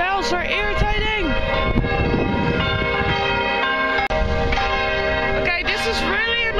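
Loud, sustained bell tones ring out continuously, overlapping and resonating, with a person talking underneath now and then.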